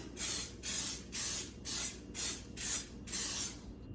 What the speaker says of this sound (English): I'm just gonna give them a good coating of olive oil spray